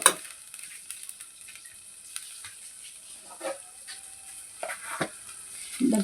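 Curry frying in a pan just after garam masala is added, a steady soft sizzle with occasional stirring scrapes and clinks, close and fairly quiet.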